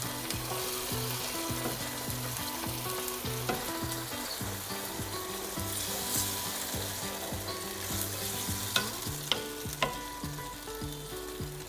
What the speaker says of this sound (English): we are adding some pre-cooked tin of black beans that we've drained